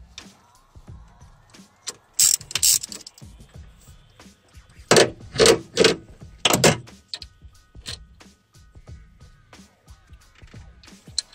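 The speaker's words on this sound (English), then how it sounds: "Undo the shifter cable bolt from the shifter arm." A wrench works the shifter cable bolt on the shifter arm of a VW Golf MK3 transmission, making scattered metallic ratcheting bursts and clinks that are loudest in short clusters over a quiet background.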